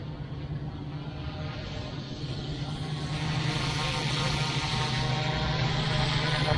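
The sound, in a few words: Wolfbush Airwolf AW-911 RC helicopter flying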